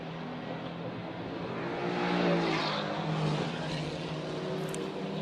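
GT race cars at the Macau Grand Prix, including a Ginetta G55 and a Mercedes, drone past at moderate distance, their engine note swelling and fading around a hairpin.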